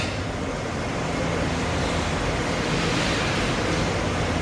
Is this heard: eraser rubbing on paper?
no